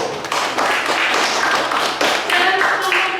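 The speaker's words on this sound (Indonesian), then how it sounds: "kita beri tepuk tangan untuk kelompok 1" Classroom applause for a student discussion group in a social studies lesson, a dense continuous patter of many hands clapping at steady loudness for about three seconds.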